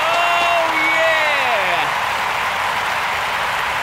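Applause from a live-session audience after a rock band's song fills the clip steadily, a dense wash of clapping while a sung or shouted voice fades out over it.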